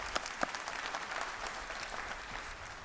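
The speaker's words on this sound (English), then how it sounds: "A big round of applause, please, for all of our members of the platform party" Graduation ceremony audience applauding the platform party, dense clapping from a large crowd, steady and somewhat distant, with a few sharper claps standing out early on.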